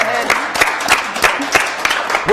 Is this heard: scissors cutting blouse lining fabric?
no